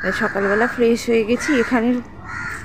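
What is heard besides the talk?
crows cawing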